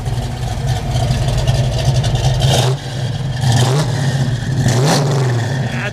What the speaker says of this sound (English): These big blocks sound nice coming out the back, especially with the 4 tips.